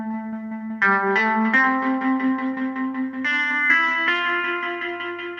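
Mellotron M4000D rock guitar sound played through phaser, delay, Undulator modulation and reverb, a sustained chord that swells into a series of new chords, thick and shimmering with wobbling modulation and a long wash of echo, loud and alone.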